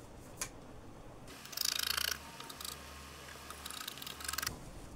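Scissors snipping through fabric while cutting out the back bodice of a kaftan, a few short crisp bursts of blade-on-cloth cutting close up with quiet pauses between them.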